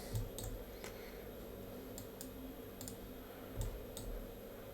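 Mouse clicks and keyboard keystrokes at a computer running Maya, with a few sharp, quiet clicks spaced out over a faint steady hum, including a quick double click.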